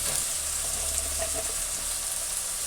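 Radish, beans, eggplant and potato sautéing in a pan for a winter prawn and radish chorchori, giving a steady, moderately loud sizzle and hiss that runs unbroken with no talking.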